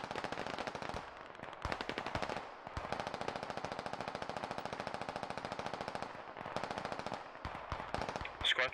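Sustained rapid automatic gunfire in the military shooter video game Squad, long rattling bursts with brief pauses, loud and close, with faint radio chatter.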